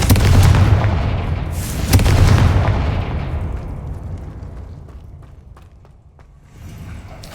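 A Confringo blast spell explodes in Hogwarts Legacy, a loud booming burst with a second heavy boom close after it, then a long rumbling decay that fades away before a fainter clatter at the end.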